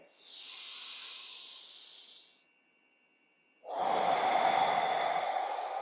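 Deep breathing during a primal core flow breathwork class: a long airy hissing breath, a brief pause, then a louder, fuller breath, close and clear with no talk.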